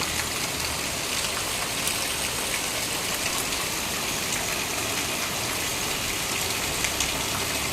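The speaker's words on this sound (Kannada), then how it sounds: "ಎರಡು ದಿವಸದ ನಂತರ ಮತ್ತೆ ಇವತ್ತು ಜೋರು ಮಳೆ" Heavy rain pours down in a dense, steady hiss with a low rushing undertone, unbroken and even throughout.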